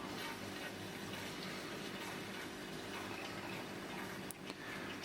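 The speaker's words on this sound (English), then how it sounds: "We're going to keep this going until we see beer starting to slowly flow out of that out tube." Beer running into a bottle through a counter pressure filler with oxygen purge, a faint steady hiss and trickle of liquid that continues evenly, with a brief knock near the end.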